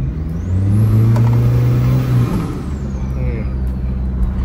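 A loud Innova's turbocharged 1GD engine revs up and holds with a rising whine and hiss, then settles back toward idle, close by, at a drag event.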